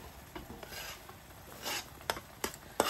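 Tuna pasta bake with broccoli being stirred in a pan, soft scraping and rubbing under a gentle sizzle, with a few sharp utensil clicks toward the end.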